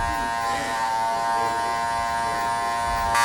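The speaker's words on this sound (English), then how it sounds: "Close the clipper halfway." An electric hair clipper buzzes loudly and steadily up close during a haircut, a constant humming drone with no break.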